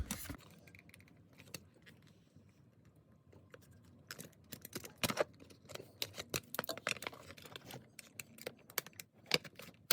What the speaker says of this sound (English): we'll cut these tabs off